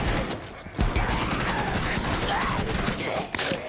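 Light machine gun fire in the shooter video game Rainbow Six Siege during an Outbreak mode match, loud rapid bursts of shots with a brief gap, dense and continuous against game noise.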